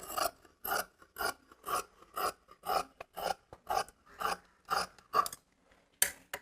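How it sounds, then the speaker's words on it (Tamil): Scissors snip through a saree border being cut away for a blouse, a steady series of about a dozen crisp, close cuts at an even rhythm, with a short pause before a final snip. "இப்போ இந்த border வந்து நான் தனியா கட் பண்ணி எடுத்துறேன்."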